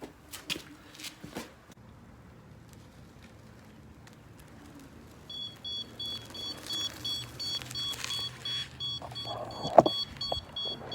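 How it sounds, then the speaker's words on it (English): After a stretch of handling knocks and quiet rustling, a battery-powered device starts emitting a repeating series of high electronic beeps for its low battery, close by and fairly clear. "So I don't know why it's beeping like that."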